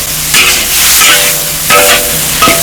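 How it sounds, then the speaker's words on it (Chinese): Pork intestine with chopped chili and ginger is stir-fried in a hot wok, a loud continuous sizzle broken by several sharp scraping strokes of the spatula in an irregular rhythm. "给它炒一下啊。"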